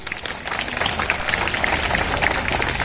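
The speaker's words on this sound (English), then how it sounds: "let's give her a round of applause" A crowd of visitors at Singapore's Night Safari claps for a performing animal, a burst of applause that starts after a brief quiet moment and carries on as a fairly loud, even patter.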